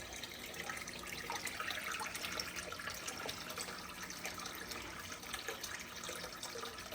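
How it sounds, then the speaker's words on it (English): Water rushes steadily through a saltwater aquarium filter, a continuous close hiss and splash with no pauses. "Our filter is running."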